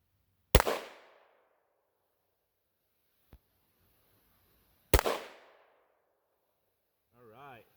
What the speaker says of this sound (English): 20-inch AR-15. Let's see. First shot is M193. Second shot is M855.